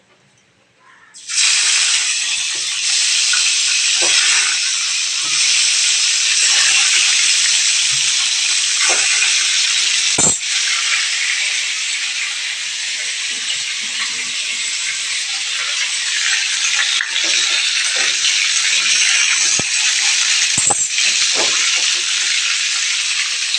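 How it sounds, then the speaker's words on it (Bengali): Fish fry in hot oil with a loud, dense, continuous sizzling hiss that starts abruptly after a brief quiet moment and holds steady, broken by a few faint clinks. "তো মাছগুলোকে এখন তেলের মধ্যে ফ্রাই করতে দিয়ে দেবো।"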